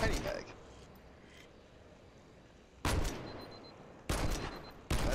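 Weapon fire in Halo Online (Eldewrito), shooting without a scope: three sharp, separate shots with short ringing tails, spaced a second or so apart, over a quiet background.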